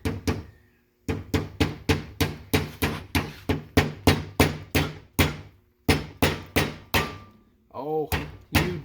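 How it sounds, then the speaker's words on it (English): A hammer taps parts in from the back side of a Mustang during a repair, sharp metallic strikes in a quick steady run of about two dozen hits with brief pauses, close and loud, with a short voice near the end. "you just tap these in from the back side with a hammer or whatever"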